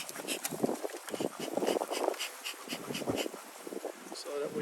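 Honeybees buzz around an open beehive during a spring inspection, a dense, close, continuous drone with pulsing swells, while a person talks over it.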